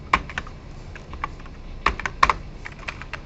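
Fast typing on a computer keyboard during a classroom lecture, with bursts of quick clicky keystrokes separated by short pauses, fairly close and alone.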